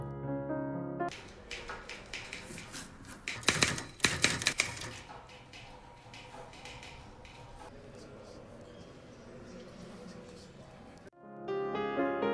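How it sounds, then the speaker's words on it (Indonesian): Rapid mechanical clacking of typewriter keys, heaviest in a dense burst early on, then lighter tapping that continues under background noise. "Dari suara mesin ketik itu"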